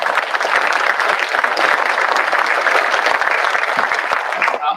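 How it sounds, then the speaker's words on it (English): An audience at a Tarrant County maternal health event in Fort Worth gives sponsors a warm round of applause, many hands clapping in a dense, even burst that holds for several seconds and then abruptly stops. "So please give all of our sponsors another round of applause."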